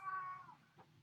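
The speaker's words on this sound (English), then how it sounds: "that's what you just heard is the cat yelling at Jennifer." A cat yowls indoors, a faint, brief drawn-out tonal cry that fades, followed by a soft short sound.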